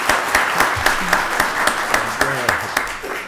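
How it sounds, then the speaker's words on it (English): Applause from a county board of commissioners' meeting audience as a pastor comes up to lead prayer: a scattering of distinct, fairly steady claps from a smallish crowd, with a voice briefly talking over them. "Y'all give him a round of applause"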